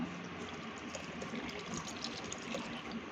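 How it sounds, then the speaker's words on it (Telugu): Water pours steadily into a bowl holding chilli powder, a continuous close splashing gush that lasts the whole short moment. "అందులోకి వాటర్ వేసుకుందాము"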